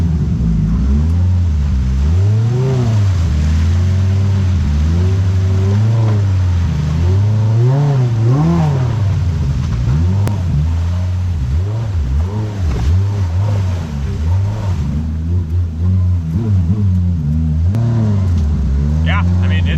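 A Polaris RZR Pro R side-by-side on 35-inch tires crawls a rocky East Coast trail, its engine loud and close, rising and falling in repeated throttle surges over a constant rumble, with voices talking over it.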